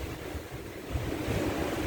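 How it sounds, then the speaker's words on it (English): Ocean waves roll into a boat anchorage in Martinique, a steady wash of surf mixed with wind buffeting the microphone, close and continuous, with no voices. "There are waves coming in."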